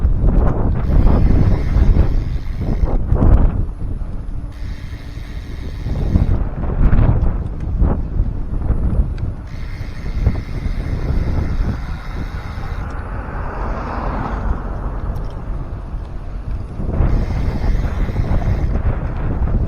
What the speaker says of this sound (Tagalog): Medyo maingay yung hangin, no?